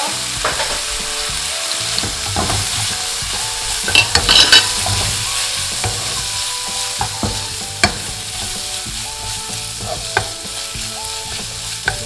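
Beef sirloin frying with chili powder for yukgaejang, giving a loud, dense, steady sizzle close up, with intermittent scrapes and clinks of stirring throughout and no voices.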